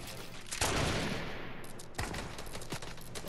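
Gunfire in Fortnite, a burst of rapid shots at the start followed by sustained firing and a few sharper reports, loud and close, with no talk.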